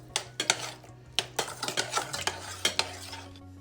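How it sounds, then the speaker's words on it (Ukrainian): A spoon stirs and scrapes around a bowl of salted mixture with lemon juice for homemade cream cheese, in quick, irregular strokes, clinking against the sides, with a low steady hum in the background. "І все перемішуємо гарно."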